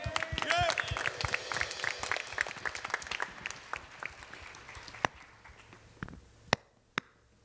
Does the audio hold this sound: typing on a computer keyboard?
no